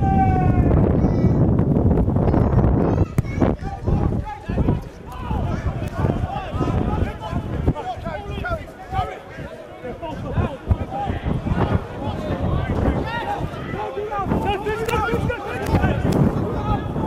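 Strong gusts buffet the microphone at an outdoor rugby match, a loud low rumble rising and falling throughout while people talk over it.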